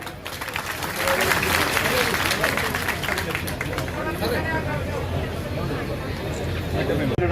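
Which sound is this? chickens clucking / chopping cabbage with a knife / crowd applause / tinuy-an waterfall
crowd applause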